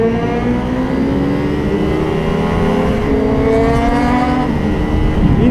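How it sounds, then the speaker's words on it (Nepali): A motorcycle running new engine software holds a loud, steady rev close by, its pitch wavering and climbing slightly through the run with no talk over it. "मेरो बाइकको आवाज चेन्ज भएको छ अहिले मैले नयाँ सफ्टवेयर हालेँ"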